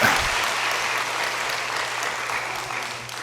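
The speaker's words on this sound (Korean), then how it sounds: "우리 교육자와 우리 선생님들을 향해서 우리 감사와 격려의 뜨거운 박수 한번 부탁드리겠습니다" A church congregation applauds its teachers and educators during a Sunday morning worship service, a dense, steady wash of many hands clapping at once that carries on at an even level, with no talking over it.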